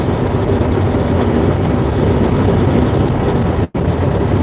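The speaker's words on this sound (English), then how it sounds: "Wind's starting to pick up a little bit" Steady broadband rushing of wind and road noise inside a moving vehicle on a drive from Ardmore, Oklahoma to Hutchinson, Kansas, as crosswinds build, continuous and fairly loud with one brief dropout near the end and no talk.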